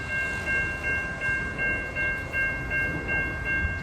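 A train approaches a railroad crossing, its steady tonal warning sounding in rhythmic pulses over a continuous low rumble of rail noise.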